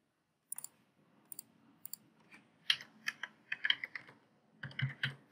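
Password typed on a computer keyboard: a few isolated key clicks at first, then a faster run of close, soft tapping keystrokes, with no voices.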